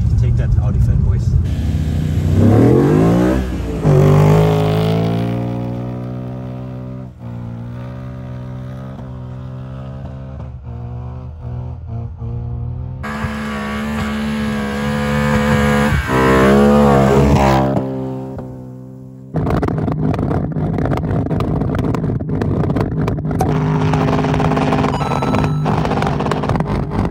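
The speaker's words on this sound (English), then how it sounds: "R35 GTR drives up the ski slope" A Nissan R35 GTR engine revs hard as the car drives up a snowy ski slope, its pitch climbing and falling in repeated surges with abrupt cuts between bursts. Voices can be heard in places.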